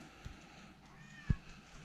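A house cat gives a short, soft meow, faint and close, against a quiet room background.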